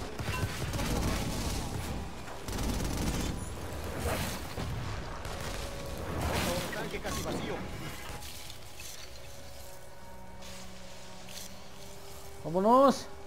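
Bursts of gunfire from the video game Infamous Second Son crackle in rapid volleys, repeating several times, followed by quieter game ambience and a short rising tone.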